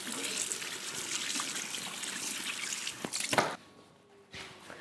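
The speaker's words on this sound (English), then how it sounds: "And I'm just going to wash my hands." Tap water runs steadily while hands are washed in a home kitchen after prepping pork belly with onions, a continuous close splashing trickle that cuts off abruptly near the end, leaving faint drips.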